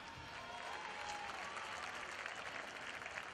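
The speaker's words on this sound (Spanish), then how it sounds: "Fuerte aplauso para Samba Caribeña" An audience at a village carnival gala applauds the samba troupe Samba Caribeña, a sustained, dense roar of clapping mixed with crowd noise, heard from a distance and fairly quiet.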